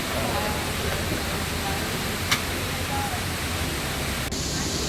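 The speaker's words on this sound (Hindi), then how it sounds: "Now this is the waterfall, just love it." Grand River waterfall in Mauritius roaring at close range, a dense, steady rush of falling water that fills everything evenly, with one brief sharp click partway through.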